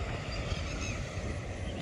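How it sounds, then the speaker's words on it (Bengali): A combine harvester works in a ploughed field, giving a steady, broad droning roar like a distant aeroplane, constant and unbroken with no talk. "হারভেস্টার এমন শব্দ করছে, মনে হচ্ছে এরোপ্লেন যাচ্ছে।"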